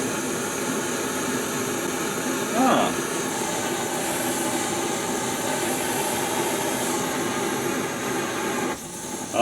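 A motorcycle camp stove burner turned up full and tilted, its flame giving a steady loud roaring hiss throughout, with a brief bump and a dip near the end.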